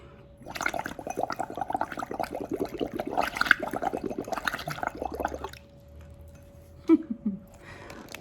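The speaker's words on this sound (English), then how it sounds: "let's blow bubbles in our water" Bubbles blown through water in a cup: a close, steady gurgling burble of about five seconds, then a short quieter gap and a final small splash.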